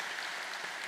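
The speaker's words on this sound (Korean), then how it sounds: "하나님께 영광의 박수 올려드리겠습니다." Brief burst of congregational applause at a church service, a dense, even wash of clapping lasting under a second with no voices over it.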